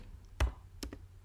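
A computer mouse click on an on-screen Add Compare button, heard as two or three quick, faint clicks at close range against a quiet background, with no talk.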